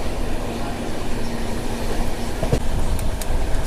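Falaknuma SF Express (12704) running through hills between Secunderabad and Howrah, heard from inside a general coach: steady loud rumble of wheels on rails with a few sharp clicks near the end.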